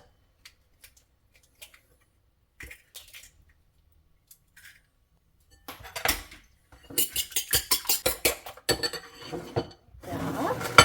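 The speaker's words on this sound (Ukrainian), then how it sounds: "Беремо два яйця і збиваємо в тарілості." Two eggs are beaten in a plate to make batter for homemade chicken nuggets, starting with a few scattered clinks and building into quick, busy clattering and scraping over the last five seconds.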